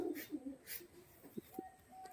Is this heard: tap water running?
no